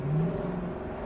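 The V8 engine of a Lexus LC 500 convertible, a front-engine performance car, gives a short, close, deep throaty rumble with a steady low drone.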